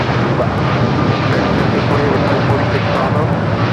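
An airliner bound for Toronto rolls down runway 25 Right at LAX with a steady, fairly loud broadband engine roar. Radio chatter from air traffic control runs over it throughout.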